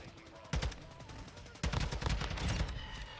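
Rapid automatic gunfire in Modern Warfare 2, two bursts of close, loud shots, the second longer and sustained, over continuous game ambience.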